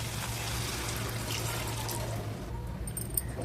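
Water poured steadily into a pan of potato pieces for a potato-tomato curry, giving a continuous close splashing wash with a soft trickle tailing off near the end; no voices.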